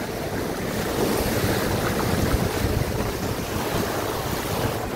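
Ocean waves break and wash steadily onto a shore, a continuous roaring surf mixed with wind buffeting the microphone, with no voices.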